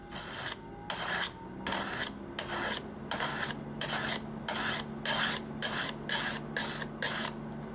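A pocket knife is drawn across a sharpener at about a 15-degree angle, heel to tip, in about fourteen regular rasping strokes. Each stroke scrapes clearly at a fairly quiet, close level, with short gaps between strokes.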